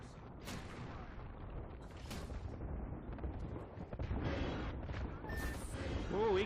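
Gunfire and sniper shots in an Apex Legends battle, sharp bursts ringing out over a dense, busy mix of game effects and noise, with the action building louder toward the end.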